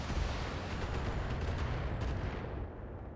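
Mech weapons fire in the BattleTech video game as a Striker vehicle engages a Jenner, heard as a dense, loud barrage of rapid blasts and heavy booms that rolls on steadily and then eases off near the end.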